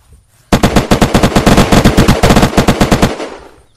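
A loud, close burst of rapid automatic gunfire from the video game Unturned during a PvP base raid, firing continuously for about two and a half seconds before stopping abruptly.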